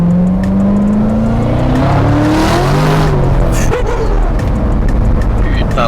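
A sports car in Dubai drives and accelerates loudly, its engine note rising steadily over several seconds with a rough, continuous roar close to the microphone.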